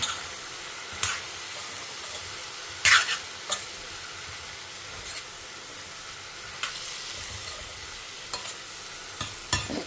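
Brinjal (eggplant) sautés with salt in a pan, giving a soft steady sizzle broken by occasional scraping strokes and light clicks of a spatula, close but fairly quiet.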